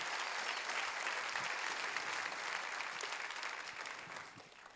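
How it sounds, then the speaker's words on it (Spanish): A church congregation gives loud, sustained applause during a Spanish-language sermon, a dense steady clapping that fills the room and fades slightly at the end. "¿Cuántos le alaban al Rey con un aplauso bien fuerte?"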